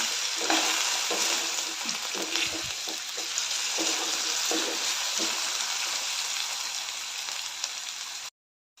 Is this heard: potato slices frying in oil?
yes